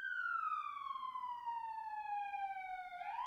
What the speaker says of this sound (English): That's a siren.